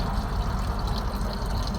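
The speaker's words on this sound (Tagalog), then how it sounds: "Pinangbanlaw ko na siya para mapalitan ko na lang ng tubig." Water gushing inside a plastic drinking-water gallon as it is rinsed out, a loud, close, hollow sloshing rush that carries on without a break and with no talk.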